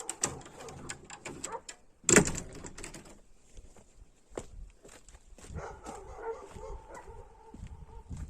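Several sharp dog barks ring out close by, with one loud bark standing out among scattered yips, shuffling footsteps and rustling.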